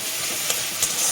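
Spice paste frying in a pan while cooking a pointed gourd (potol) curry, giving a steady close hiss and sizzle with a couple of soft stirring scrapes.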